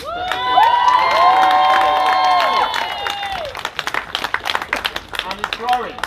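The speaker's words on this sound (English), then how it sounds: "give a big round of applause to OLDHAM Peace and Justice" Crowd at an outdoor peace and justice demonstration in Oldham against Elbit Systems, cheering and whistling loudly for several seconds, then breaking into scattered claps and shouts.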